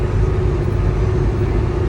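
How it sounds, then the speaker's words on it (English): Steady low rumble inside a car cruising on a highway, continuous road and engine drone with a faint hum and no talking. "we're in the car right now"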